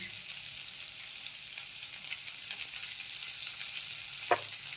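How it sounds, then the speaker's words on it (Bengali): Small pinch of turmeric added to hot oil in a pan over lowered gas while cooking matar dal with bitter gourd, a soft steady sizzle with one brief sharp tick near the end. "গ্যাসটা কমিয়ে আমি অল্প যে হলুদ রয়েছে একদম অল্প পরিমাণে এই হলুদটা দিয়ে দিচ্ছি"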